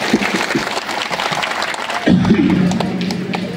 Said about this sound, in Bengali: আমরা সকলের পক্ষ থেকে ওর জন্য একটা করতালি দেব।